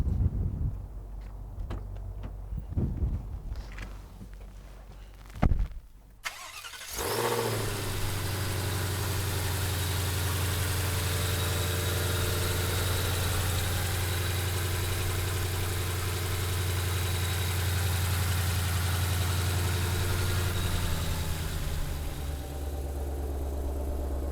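A 2021 Ford Mustang Shelby GT500 Carbon Fiber Track Pack with its 5.2-litre V8 starts up after a few knocks and clicks, flaring briefly before settling into a loud, steady, deep idle close by.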